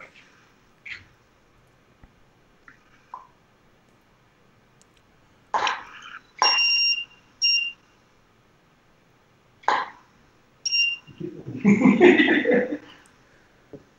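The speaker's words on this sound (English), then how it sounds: "you heard me fire too early before it recycled, and it made a louder beep" A photography strobe flash fires during a portrait shoot, giving short high electronic beeps in a few separated bursts, with some quieter rustling, breaths and a brief voice between them.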